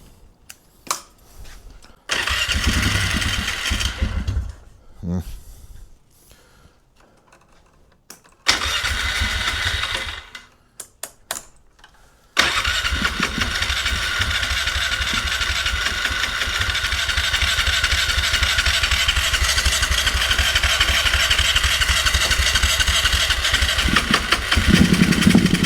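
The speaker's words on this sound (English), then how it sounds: "Okay, we've got it running again, sort of." A 1997 Polaris Sportsman 500 ATV with a running fault cranks in short bursts, catches briefly, then starts and settles into a steady, loud, slightly uneven idle up close that holds to the end.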